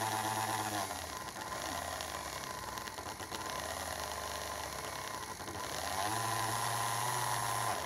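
Universal motor running under phase-angle speed control, a steady whining hum with harmonic tones that shift in pitch as the speed is changed, fairly loud and continuous with no talking.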